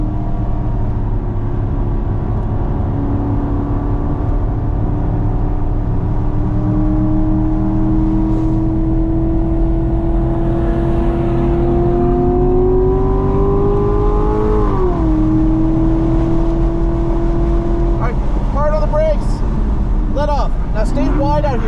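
A car on the Burt Brothers Motorpark East track, its engine droning steadily and building in pitch as it accelerates, then dipping and rising again near the end, close and loud, with a voice talking over it.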